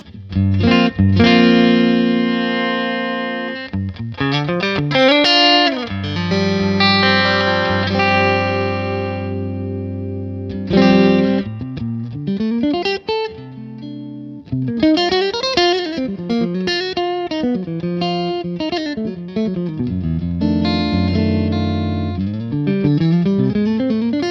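An electric guitar plays through a PRS Sonzera 50 combo amplifier with the mids cranked, giving a loud, sustained, distorted tone with fluid legato runs, bends and held notes that continue for the whole stretch.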